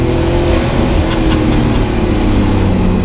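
A Porsche 3.8-litre flat-six twin-turbo engine of a W Motors Fenyr SuperSport hypercar revs loudly and continuously, a dense sustained roar close by with no talk over it.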